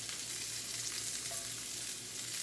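Golden-browned salmon fillet sizzles in an oiled frying pan, a steady, fairly quiet hiss that runs unbroken with no voices over it.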